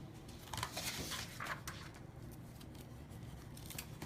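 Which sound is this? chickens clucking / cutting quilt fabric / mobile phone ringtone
cutting quilt fabric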